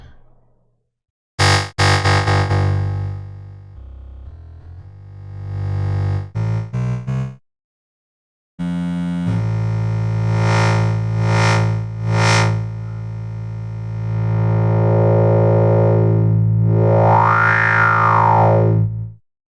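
An electronic music track plays with heavy, distorted synth layers, cutting out briefly before returning with a sustained bass drone and a rising, sweeping lead.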